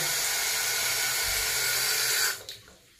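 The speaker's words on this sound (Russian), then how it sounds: "Все, вода вся уходит." Steady rushing water runs loudly into a sink installed over a washing machine, then abruptly cuts off and gives way to a few gurgling drips as it drains away.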